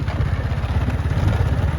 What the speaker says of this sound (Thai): รถไถครับรถไถเดินตาม